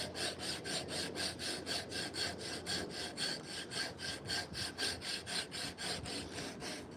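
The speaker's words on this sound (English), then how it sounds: "I'm the high-powered sander" Hand sanding a carved wooden spoon with a sword-style handle gives steady, rhythmic back-and-forth rasping strokes, about three per second, close and clear with no talking.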